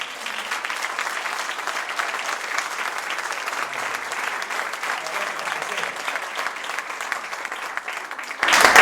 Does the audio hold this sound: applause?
yes